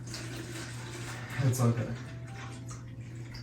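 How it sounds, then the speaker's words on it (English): Water poured from a gallon jug onto a ficus plant, a short soft splash and trickle of about half a second, at close range over a steady low hum, with a brief spoken remark nearby. "I'm gonna water this ficus over here."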